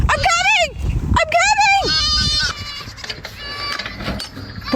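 Goats on a farm let out several loud, wavering bleats in quick succession up close, and a couple of fainter calls follow under background noise.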